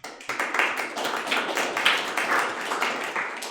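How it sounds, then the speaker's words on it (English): A small meetup audience claps for a sponsor, a modest, uneven patter of individual hands, close and fairly quiet, lasting a few seconds. "So can I get like your applause for Tech Consult?"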